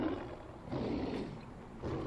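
A big cat in the video game Far Cry Primal lets out deep, rumbling roars and growls in close succession, three swelling bursts over a couple of seconds, with no talk over them.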